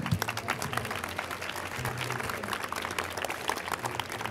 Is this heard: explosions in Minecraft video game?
no